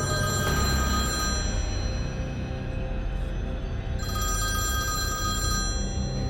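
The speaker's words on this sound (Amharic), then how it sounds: "ትናንትና ሌሊት 8 ሰዓት ላይ ኃይሌ ቪዲዮ ጥሪ ደወለልኝ።" A phone rings with an incoming video call in the middle of the night: a steady electronic ringtone with sustained tones that pause briefly, then resume over a low background rumble. No voices.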